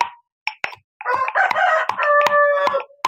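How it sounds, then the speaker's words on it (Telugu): Country chickens kept at a rural home, with a rooster crowing loudly and close by among short clucks and scattered knocks. "నాటుకోళ్ళు."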